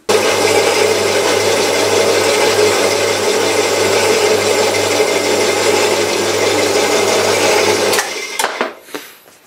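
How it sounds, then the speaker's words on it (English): A bandsaw cutting through a workpiece in a home workshop runs loud and steady with a constant whine and grinding hum, then stops abruptly and spins down. "I love this bandsaw."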